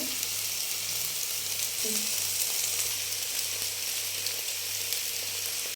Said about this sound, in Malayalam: ഒരു സൈഡ് മറിച്ചിട്ട് രണ്ട് രണ്ട് മറിച്ചിട്ട് കഴിഞ്ഞു അങ്ങനെ ഫിഷ് ഫ്രൈ റെഡിയായി